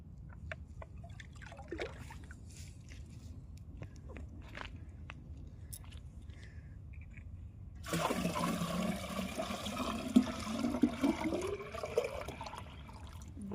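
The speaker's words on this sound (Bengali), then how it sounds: "পুকুর থেকে জল তুলছি বালতি ভরে ভরে" Water scooped from a pond and poured into a bucket, heard as a steady close splashing and gurgling fill that starts abruptly partway through, after a quieter stretch of faint rustling and outdoor ambience.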